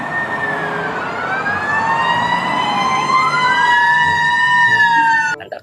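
A toy fire truck siren wails in looping electronic tones, sweeping up and down with bright harmonics, loud and close, cutting off abruptly near the end.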